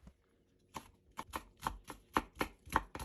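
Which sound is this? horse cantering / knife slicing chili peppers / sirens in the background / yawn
knife slicing chili peppers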